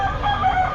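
A rooster crows close by at an outdoor pet market, one loud drawn-out call with no talk over it.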